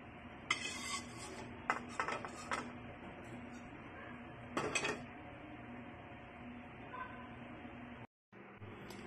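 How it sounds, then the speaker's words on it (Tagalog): Cooked tofu in oyster sauce is scooped from a pan into a container, with nearby scrapes and clinks of utensil on metal in short bursts over a steady low background hum. "Isasalin na natin sa lalagyan upang aking matikman."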